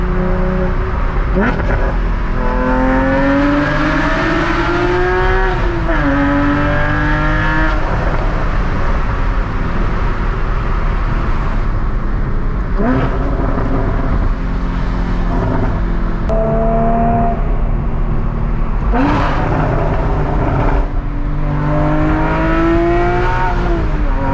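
A Porsche Cayman GT4 fitted with long tube headers is driven through a tunnel, its loud exhaust revving up and down through repeated gear pulls, echoing and close from inside the cabin.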